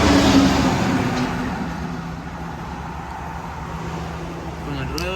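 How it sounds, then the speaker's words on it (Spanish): Heavy trucks and road traffic rumble steadily in the background near a roadside eatery serving Salvadoran food, a continuous low drone with no clear individual pass-by and a faint brief tone at the end. "Con el ruido de los camiones de fondo."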